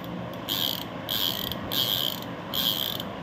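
Clicking ratchet of a new fishing reel with 18 kg drag capacity, fitted with line, runs in four steady buzzing bursts with short pauses, close and fairly loud, and no one talks.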